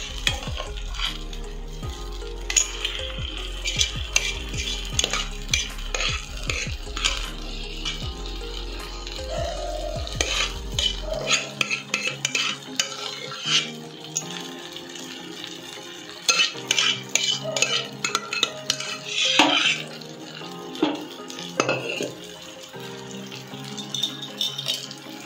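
Potatoes and corn stirred into a fried mixture in a pan: close, irregular clattering and scraping of a utensil against metal over soft sizzling, with a low hum in the background during the first part.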